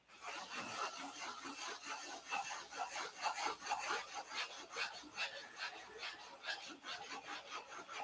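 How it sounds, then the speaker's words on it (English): Hand sanding on a model airplane, a steady close rasp of abrasive strokes repeating in a continuous rhythm with no talking. "When you're doing this type of sanding"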